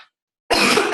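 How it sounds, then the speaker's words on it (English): A single harsh cough or throat clear on a Zoom call, close and loud, lasting about half a second after a brief silence. "Sorry for coughing."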